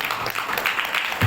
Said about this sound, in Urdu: زبردست تالیاں، ہاللیلویہ